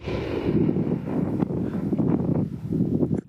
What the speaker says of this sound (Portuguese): aqui está ventando